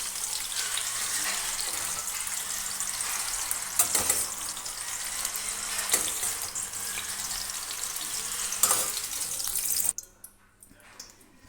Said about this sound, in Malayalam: ക്യാപ്സിക്കം ഒന്ന് സോഫ്റ്റായിട്ട് ഫ്രൈ ആയി വന്നിട്ടുണ്ട്.